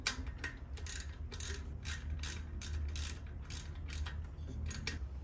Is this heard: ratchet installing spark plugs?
yes